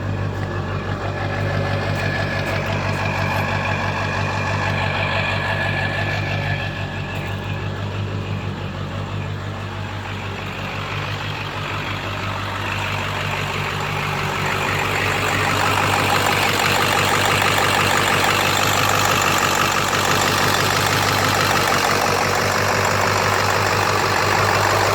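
A 7.3 diesel engine idling steadily in a Ford Excursion, fitted with 180cc injectors with 30% nozzles; a loud, close, continuous rumbling drone with a clattery edge, unbroken and alone for the whole stretch.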